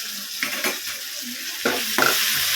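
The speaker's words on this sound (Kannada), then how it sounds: "ಅದಕ್ಕೆ ಸ್ವಲ್ಪ ಶುಂಠಿ ಬೆಳ್ಳುಳ್ಳಿ ಫ್ರೈ ಜೊತೆನೇ ಫ್ರೈ ಆಗಲಿ." Ginger garlic paste fries in a pan: a soft, steady sizzle with a few short bursts of stirring and spattering, fairly quiet and with no talking.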